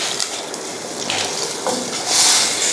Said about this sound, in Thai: น้ำเพิ่มไปอีก